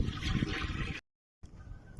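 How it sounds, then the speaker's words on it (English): Water gushes steadily into the hopper of a Wolseley WD8 stationary engine for about a second, then stops abruptly; after a short silence a quieter trickling follows. "fill hopper with water."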